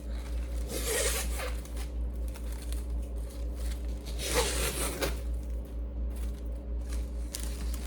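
Gift-wrap ribbon being ripped in half and curled, heard as two brief, close, scratchy zipping tears about three seconds apart over a steady low hum.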